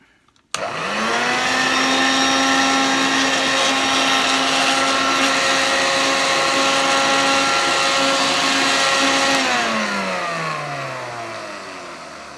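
A Hoover Junior 1334 vacuum cleaner with no bag fitted starts with a sudden loud motor whine, runs at a steady high pitch, then slowly winds down as the motor coasts to a stop.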